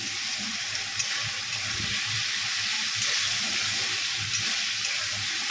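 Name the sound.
fish frying in a pan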